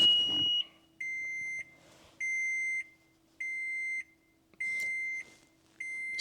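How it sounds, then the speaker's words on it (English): A Wolfbox mirror dash camera, wired to a front camera in a car, starts up with a series of five or six short, evenly spaced electronic beeps, each about half a second long, clear and close with quiet gaps between. "That noise you heard, that was my wolf box mirror starting up."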